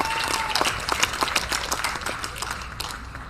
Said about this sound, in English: I think you should give yourselves a round of applause here